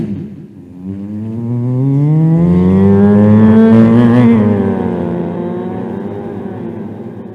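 A voice imitates a sports car passing by, a loud rising, swelling engine-like drone that peaks midway and then fades as it recedes, performed alone without words.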